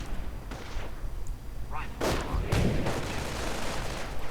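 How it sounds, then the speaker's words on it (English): A sticky bomb detonates on an anti-tank half-track during a real-time strategy battle, heard as sharp booms and heavy gunfire bursts against a continuous rumble of combat, with faint voice-like tones mixed in. "Sticky bomb goes off."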